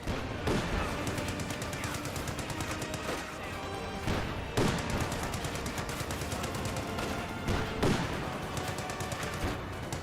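Rifle and machine-gun fire rattles across a World War II battlefield in the strategy game Company of Heroes 2, with Volksgrenadier infantry under attack. Steady crackling volleys are broken by heavier booming impacts every few seconds.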